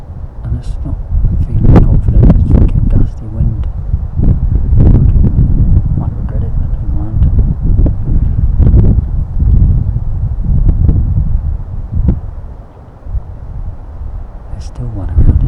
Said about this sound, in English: It's fucking gusty wind.